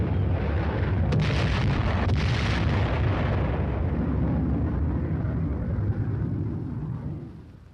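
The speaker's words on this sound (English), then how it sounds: "the first flight drops general purpose bombs" General purpose bombs dropped from aircraft explode in a heavy, roaring rumble that stays loud and dense for several seconds before slowly fading out.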